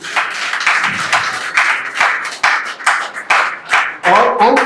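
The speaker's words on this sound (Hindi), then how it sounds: "मैं चाहता हूं कि एक बार जोरदार ताली हो जाए पूरी टीम की" Loud applause from an audience at a Prem Milan Samaroh gathering for the whole team, dense clapping that swells and breaks into bursts before voices come in near the end.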